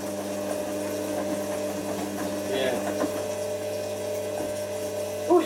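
Washing machine filling with water, a constant motorized hum with layered tonal whine and faint trickling, steady and close, with a short louder knock right at the end and voices nearby.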